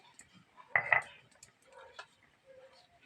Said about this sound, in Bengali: একটু জল নিয়ে শিলনোড়াটা ধুয়ে নিচ্ছি